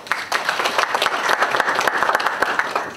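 A crowd claps steadily at a live conference event, dense overlapping applause holding at an even, loud level throughout with no talk on top.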